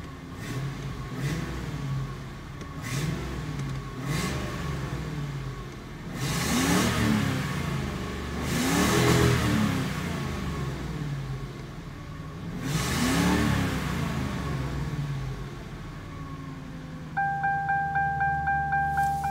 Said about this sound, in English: All right, let's rev this up.